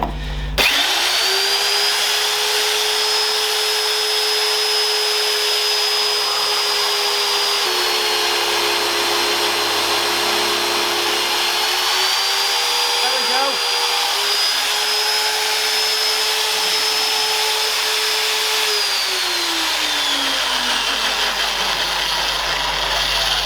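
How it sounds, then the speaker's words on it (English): A power drill boring a hole in the steel chassis of a 1973 Foden S80 truck, a loud continuous whine that holds steady, dips in pitch as load increases, then recovers and stops near the end. "That's the first hole drill."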